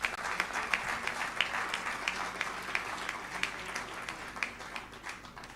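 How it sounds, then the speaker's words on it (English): Graduating students and guests applaud at an annual graduation ceremony, a sustained round of dense clapping from a large crowd heard at a moderate distance, steady without a pause. "you can give yourself a round of applause"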